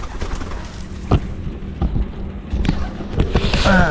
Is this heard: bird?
yes